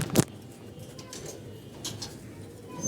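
Pigeons cooing softly at moderate distance, with low, murmuring coos and a brief louder burst near the start, against faint background noise.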